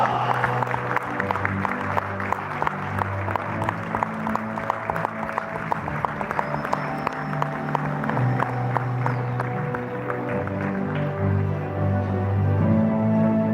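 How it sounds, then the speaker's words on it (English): Applause from the audience at the South Asian Travel Awards Gala 2025 as a Gold Award winner for leading inbound travel agent is announced, a steady patter of clapping under music and background crowd noise. "give Income Spence Travel a round of applause"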